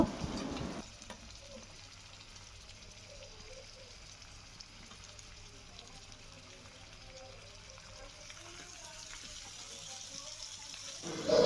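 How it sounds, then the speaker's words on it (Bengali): Beef sautéing with spices in a pan, a low, even sizzle held through the whole stretch, fairly quiet and steady with a couple of brief louder knocks at the edges. "মাংসটা ভালো করে আমি মশলার সাথে কষিয়ে নেব"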